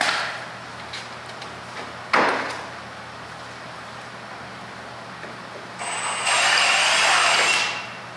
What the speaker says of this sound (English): driving a screw in, just one in each end of the wood